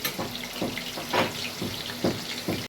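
Potatoes fry in a pan, a continuous sizzling hiss broken by regular scraping bursts as the pieces are turned over, close and fairly loud with no talk.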